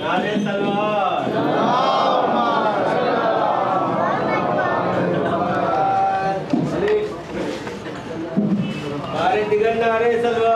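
A mosque gathering in Kolkata chants salawat in unison, a loud crowd of many voices answering a leader's call in sustained, overlapping recitation that swells, dips briefly, then rises again.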